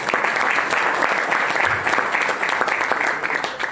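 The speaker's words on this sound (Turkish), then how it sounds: "kendilerine bir alkış rica ediyorum sizden" A room of guests at an association event applauds a TÜRSAB president, with brisk, dense clapping that stays loud and steady throughout and a few individual claps standing out.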